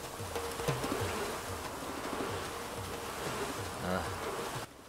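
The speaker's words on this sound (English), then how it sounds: "There's nothing I can do to avoid these wasps." Wasps in Animal Crossing: New Horizons swarm with a steady, loud insect buzz that pulses and wavers in pitch throughout, against a faint outdoor background, then drops off abruptly at the end.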